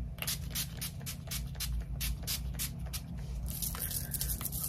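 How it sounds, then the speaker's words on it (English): A rapid series of short, sharp mist sprays, about a dozen quick pumps in a steady rhythm, close by, followed by a longer hiss. "Hold on, let me spray."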